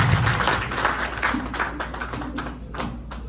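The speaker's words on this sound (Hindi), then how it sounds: "तालियों के साथ स्वागत करिए उनका।" Audience at a CRI retailers meet for a water pump motor company applauding to welcome a speaker, a steady wash of many hands clapping that gradually thins out.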